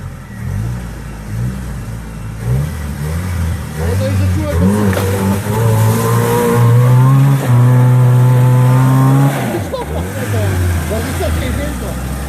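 A Jeep Wrangler off-road, its engine rumbling and revving in repeated surges, then holding a loud strained drone before easing off, with people talking over it.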